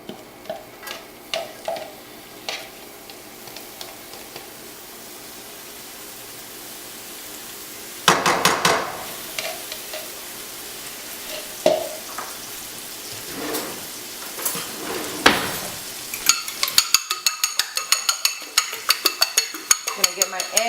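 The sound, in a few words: garlic and onion sautéing in a pan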